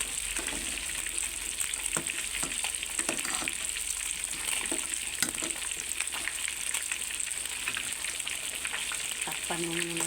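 Sweet potato stirred in a pot for a Filipino vegetable stew, a steady close frying hiss with intermittent scraping strokes and a brief tonal hum near the end.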